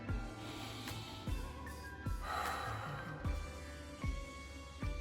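Slow, deep breathing as a calming exercise, a series of audible inhales and exhales with sharp onsets in a regular rhythm, close and fairly quiet, with no talk.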